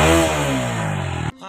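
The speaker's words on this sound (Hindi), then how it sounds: "जैसे एग्जांपल एक बार मैं रिपीट थ्रॉटल करके दिखाता हूँ।" A TVS Apache 160 RTR motorcycle engine revs under throttle, a loud, close, buzzing drone that falls gradually in pitch before cutting off abruptly near the end.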